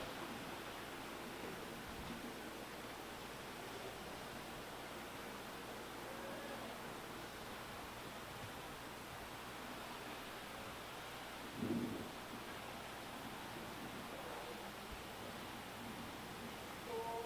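Stormy, blustery wind and rain sweep across an outdoor football stadium, McLeod Athletic Park, before a CJFL national semi-final, a steady broadband roar with no talk.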